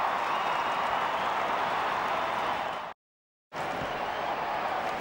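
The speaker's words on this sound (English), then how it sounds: "Crowd trying to get involved." Stadium crowd at an AFL match between Sydney and Collingwood roaring and clapping after a Sydney goal, a dense steady wall of cheering that cuts out briefly midway before resuming at full loudness.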